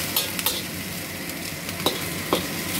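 Pig ears frying in a pan make a steady close sizzle, broken by a few sharp clinks of a utensil stirring against the metal.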